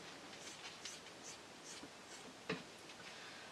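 Permanent marker squeaking and scratching across fabric in short quiet strokes, with one sharper tap, close up and faint.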